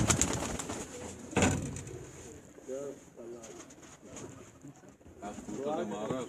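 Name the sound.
Ferozpuri pigeons cooing on a rooftop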